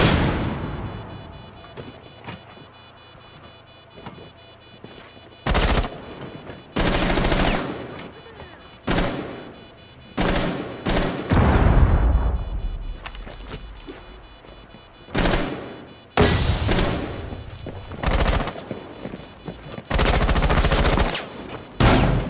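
Bursts of automatic gunfire in Rainbow Six Siege during a bomb round on the Oregon map, loud clusters of shots separated by quieter gaps, with echoing booms and thuds and occasional faint voices.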